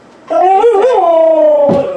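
A dog playing with a vinyl toy in a house under bathroom renovation lets out one long, wavering howl, loud and close, holding for well over a second before a brief scuffling noise at the end.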